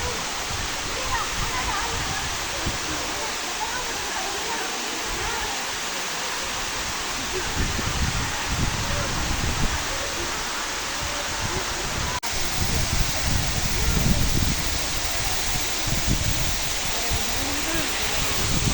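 Tumalog Falls in Oslob, Cebu roars with a steady, dense broadband rush of falling water that stays loud and continuous throughout, with faint voices blended into the noise.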